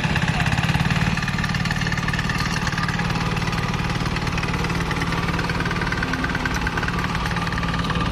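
A chain cultivator's small engine runs steadily during a live farm demonstration, a loud, even, chugging drone that carries on without pause and with no talking.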